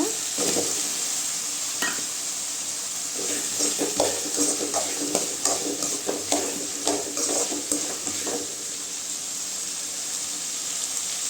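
Drumstick pieces are stirred into softened tomatoes in a frying pan, giving a loud, continuous sizzle with scraping stir strokes on top. No one speaks.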